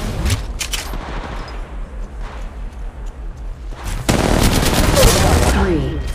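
Rapid bursts of gunfire from the mobile battle-royale game Apex Legends Mobile, steady automatic volleys that swell into a louder, denser barrage near the end, with faint voice chatter underneath.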